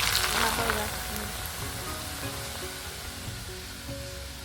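Bamboo shoots hitting very hot oil for a pickle, a loud dense sizzle that bursts up at first then settles into a steady frying hiss, close by.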